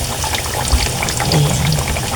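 Brown sugar pours into sweet potato frying in oil, a steady close hiss and sizzle with a soft granular patter as the sugar lands, no voices.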